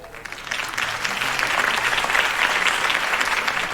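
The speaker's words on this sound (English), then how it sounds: "could have heard that applause" Crowd applause in the PS4 game Batman: Arkham Origins, following a political campaign speech for Harvey Dent: steady, dense clapping that swells slightly and holds for a few seconds.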